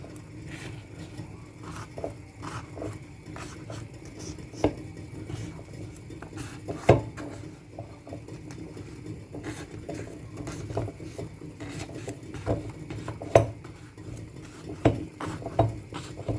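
A fork repeatedly pricks a soaking cake all over, making faint irregular taps and clinks against the dish at close range in a quiet kitchen.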